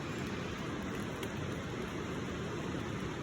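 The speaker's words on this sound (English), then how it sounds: "It's just been raining all day." Rain falls steadily at a backcountry campsite on a backpacking trip, a soft, even, continuous hiss with no distinct drops or voices.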